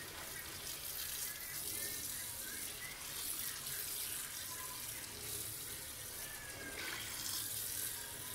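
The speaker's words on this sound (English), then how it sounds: "the next step is to fill your sink with water" Tap water runs steadily into a kitchen sink as it fills for washing fresh basil, a continuous close hiss and splash with no talking.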